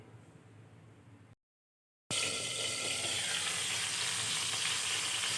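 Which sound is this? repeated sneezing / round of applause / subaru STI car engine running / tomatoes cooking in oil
tomatoes cooking in oil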